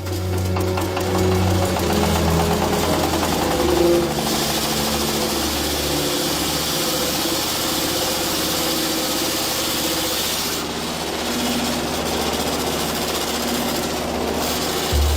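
An old, worn corn grinding mill in Zimbabwe runs continuously, a loud steady mechanical drone and rattle of machinery grinding maize into flour, with no pauses throughout.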